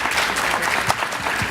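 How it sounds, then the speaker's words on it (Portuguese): Audience at a Trends Day 2017 talk claps in steady, dense applause for the next speaker, loud and continuous throughout with no voices over it. "Salva de palmas"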